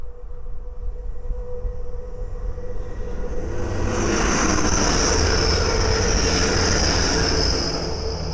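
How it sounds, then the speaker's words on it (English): A Grand Central Class 180 Adelante train from Sunderland to London King's Cross passes at speed on the East Coast Main Line at Great Wymondley, a loud close roar building and holding with a high whining squeal. "the next train to pass by is a Grand Central Atlantic from Sunderland to London King's Cross"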